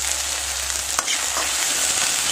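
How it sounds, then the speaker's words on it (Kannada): Food fries in ghee in a kadai, giving a loud, even, close sizzle with one sharp stir or knock about a second in, no talk. "ಫ್ರೈ ಮಾಡ್ಕೊತೀನಿ"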